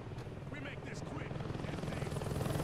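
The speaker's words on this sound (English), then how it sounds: "Is there a chopper? I can hear one." Rapid chopping thump of a helicopter rotor in the video game Saints Row 2, steady and gradually growing louder, with a voice talking over it.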